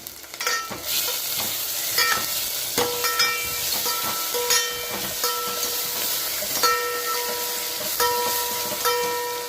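Onions sautéing with salt in a pan for radish sambar, a steady close sizzle with frequent scraping stirs of a spatula running throughout, no talking.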